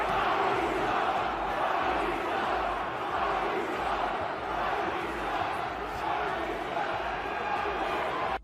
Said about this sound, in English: when Cody was facing Shinsuke, the crowd was chanting, "Rocky sucks," but they muted it.